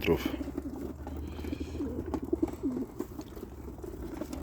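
Homing pigeons arriving in groups from a training flight, cooing in low, soft murmurs, fairly close, with a steady outdoor background hum and occasional faint fluttering.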